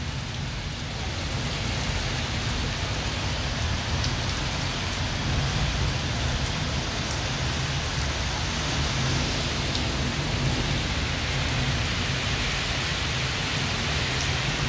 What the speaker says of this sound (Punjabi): ਬਾਰਿਸ਼ ਵੱਡੇ ਪੱਧਰ 'ਤੇ ਭਾਰੀ ਮਾਤਰਾ ਦੇ ਵਿੱਚ ਜਿਹੜੀ ਬਾਰਿਸ਼ ਹੋ ਰਹੀ ਹੈ